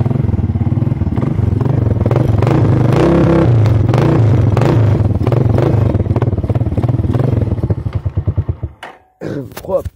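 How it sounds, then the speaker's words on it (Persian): A 150cc motorcycle engine starts and idles with a rough, rattling exhaust note from a muffler whose inner mesh has been removed, steady loud chugging that ends in sputters and a thump. "خب دوستان اگزوزش رو حالا صداش اینطوریه، توریشو زده، توری داخلشو زده، برای همینه که یکم صدا بد میده."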